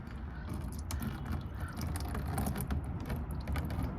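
A ratchet on an extension spins out a transmission drain bolt on a Honda Accord, a steady run of rapid metallic clicking close by, with no talking.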